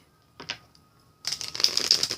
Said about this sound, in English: if you don't like the shuffling, I know when I watch my people on YouTube do readings, I love the shuffling